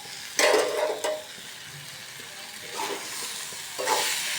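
Bhaji sizzling in a pan as a fish recipe cooks, a soft steady hiss with a few brief louder bursts of frying and a faint clink near the start, no talk.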